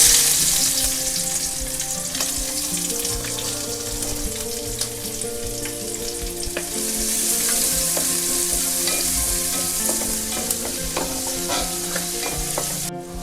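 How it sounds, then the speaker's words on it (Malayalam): Chopped shallots, green chillies and garlic fry in hot oil for a Kerala-style red spinach thoran, giving a loud, steady sizzle with occasional stirring clicks and music playing faintly underneath. "ചെറിയ ഉള്ളി 2 എണ്ണം, ഒരു 2 പച്ചമുളക്, 3-4 വെളുത്തുള്ളി, ഇത്രയും കൂടെ അരിഞ്ഞ് വെച്ചത് അതിനകത്തോട്ട് ചേർക്കാം"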